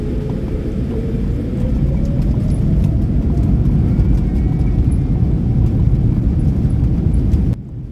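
ANA All Nippon Airways airliner departing Jakarta at midnight: a loud, steady jet engine roar with deep rumble and a rising whine, continuous throughout before cutting off abruptly near the end.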